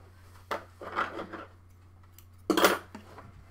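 Scissors snip through weaving yarn up close: a sharp cut, a short cluster of crisp blade sounds, then one more loud snip after a pause, set against a faint low hum.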